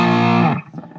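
An electric guitar on its bridge pickup runs through a Boss DS-1 distortion pedal. A loud, buzzing sustained chord holds for about half a second, then cuts off and leaves a brief, rough tail.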